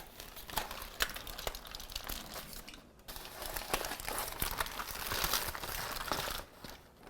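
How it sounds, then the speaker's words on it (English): Foil or butcher paper crinkling and tearing as a smoked pork butt is unwrapped after a hot-and-fast barbecue cook, close, continuous rustling with sharp crackles, no talk. "It's time to unwrap this pork butt."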